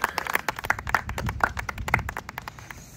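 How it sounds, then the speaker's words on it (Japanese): Brief applause from a small group, a patter of clapping hands over a few seconds that thins out and stops. "拍手。"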